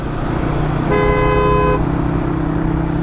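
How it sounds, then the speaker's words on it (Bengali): A vehicle horn sounds once on a road in Bangladesh, a loud, close, sustained toot of about a second over the steady drone of engine and traffic. "হর্ন দিছোস, যা আগে যা।"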